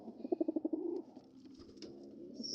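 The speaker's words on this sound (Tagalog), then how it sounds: "Yan mga kalapatids" Pigeons cooing close by, a run of about seven rhythmic low coos followed by softer, murmuring calls.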